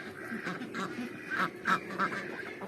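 Egg-laying ducks on a farm in the Philippines quack in a quick run of nasal calls, several close together, over a soft background murmur.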